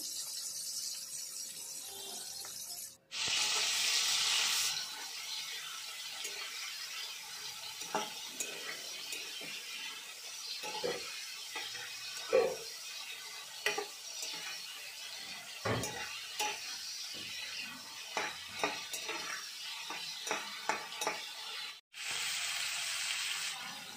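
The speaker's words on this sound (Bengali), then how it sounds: "তো ভেজে নেওয়ার জন্য কড়াইয়ে দিয়ে দিলাম চিংড়ি মাছগুলো।" Shrimp rubbed with turmeric and salt fry in a wok, giving a loud burst of sizzling when they hit the hot oil, then a quieter crackle broken by scrapes and stirring clatter, and a second sizzling burst near the end.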